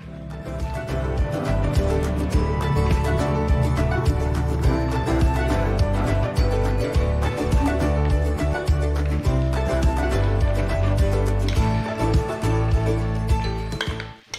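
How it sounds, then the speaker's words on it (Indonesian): Steady, continuous scraping and clattering of a utensil working through a pot as mashed fish is stirred into porridge to make pempek, dense and close with no pause and no talking. "Selanjutnya, campurkan daging ikan yang sudah dilumatkan ke dalam bubur"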